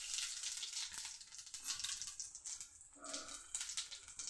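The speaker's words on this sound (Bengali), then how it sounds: "কড়াতে তেল দিয়ে দিয়েছি, এখন দুটো শুকনো লঙ্কা দিয়ে দিচ্ছি।" Dried red chillies and whole cumin seeds sizzle in hot oil in a kadai, a faint, soft crackling hiss with small uneven bursts and no voices.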